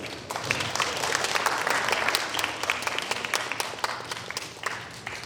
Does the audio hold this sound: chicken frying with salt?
no